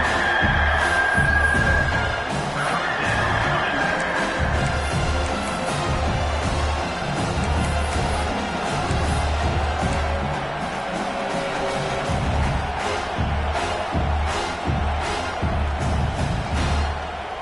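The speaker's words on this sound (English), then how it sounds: "This crowd is trying to inspire this defense to make a big red zone stop." Football stadium crowd at a Clemson at South Carolina game, a dense and steady roar of cheering and noise urging on the defense during a red zone stand, with no clear talk over it.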